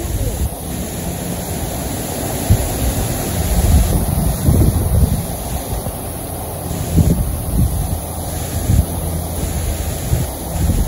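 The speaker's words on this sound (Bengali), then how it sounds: "খুবই বাতাস থাকছে" Strong gusting wind blows across an open village landscape just ahead of an approaching rainstorm, a loud steady rush with surging gusts and rumbling microphone buffeting throughout.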